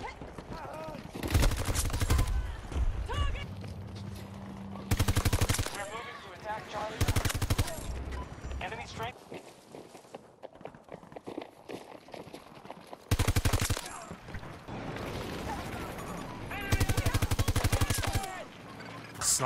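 Automatic weapon fire in the video game Battlefield 2042, repeated loud bursts of rapid shots separated by short pauses, with a player talking between and over the volleys.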